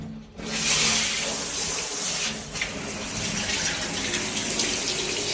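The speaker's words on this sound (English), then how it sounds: "difference between the treated panel and the untreated panel with running water" Steady running water splashes and hisses across a shower glass panel, a continuous broadband rush with no talking.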